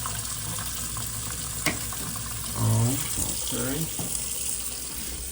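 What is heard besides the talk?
kitchen sink tap running water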